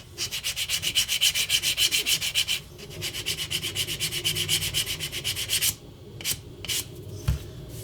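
Rhythmic back-and-forth rasping of a flat tool smoothing the beveled edge of a prop Wolverine claw blade, steady strokes for several seconds, a brief pause, then a few slower, sparser passes near and alone.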